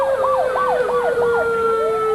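Police car sirens wailing in a fast repeating yelp over a steady tone, loud and close as the cars speed past along a parade route, with a low rumble of traffic beneath.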